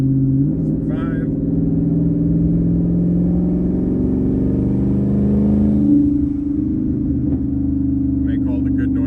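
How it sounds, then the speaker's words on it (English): A Ford F-150's engine revs up through the gears as it is downshifted with Raptor steering-wheel paddle shifters, giving a loud, close, rising and falling drone with a few clicks. "You can see I can downshift this thing, put it in 7th, 6th,"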